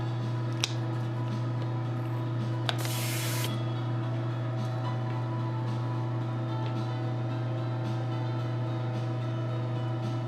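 A spray gun lays a candy coat of paint in one short hiss of about a second, over a constant loud mechanical hum with a couple of faint clicks.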